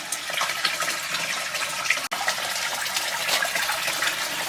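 Water gushes in a steady close stream over a concrete statue being wetted for repair, with one brief break midway and no voices.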